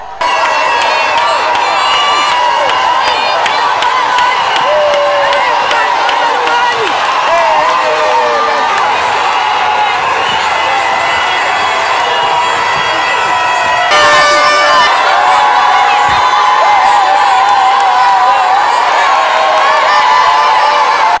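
A huge crowd lining the Chikapa-Kanjadi road by the market cheers and whoops for the head of state, a dense, continuous roar of many voices with shouts rising above it, swelling louder toward the end.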